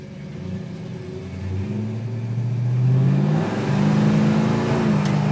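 A 1969 Plymouth Roadrunner with a 383 V8 accelerates, its engine note climbing steadily in pitch over several seconds, close and fairly loud with no talking.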